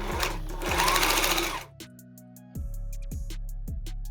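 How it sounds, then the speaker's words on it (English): A sewing machine stitches strap tabs onto a canvas backpack, whirring in a steady rapid run, pausing briefly, then resuming with a rhythmic mechanical hum, close and clear with no talking. "Sew them down securely with 2 rows of stitching"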